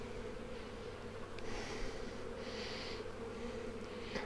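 Honeybees buzzing around an open hive, a continuous low droning hum close by with the swarm sound swelling and fading in brief surges, no voices present.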